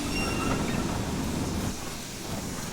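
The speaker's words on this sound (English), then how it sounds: "We've got a loco heading into the station now." A standard class 2MT steam tank locomotive rolls into a station in the Train Sim World railway simulator, a steady close rumble of wheels and running gear that eases slightly toward the end, with no talk.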